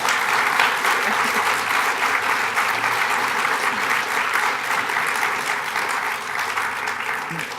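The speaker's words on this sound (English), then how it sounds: "let's give our panelists a round of applause" An audience gives a round of applause for panelists at a lifelong learning finale event, steady clapping filling the room for several seconds before slowly thinning out.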